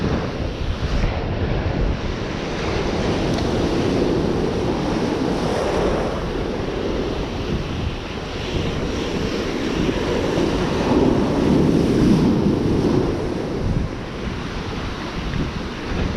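Ocean waves break steadily on a Virginia Beach shore, a continuous loud roaring wash of surf mixed with heavy wind buffeting the microphone, with no voices.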